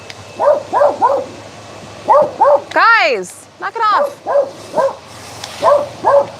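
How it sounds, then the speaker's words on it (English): Several dogs bark in excited bursts near a cabin under construction on a homestead, with a voice telling them to stop between the barks. "Of course, the dogs are going to go nuts."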